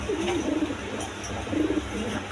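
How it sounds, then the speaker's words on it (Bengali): A black-lace female pigeon gives two soft, low cooing phrases, the first early and the second after a short pause, close by at a modest level over faint room noise. "ব্ল্যাকলেস কালারের মাদি কবুতর দেখেন, এটা ব্ল্যাকলেস মাদি"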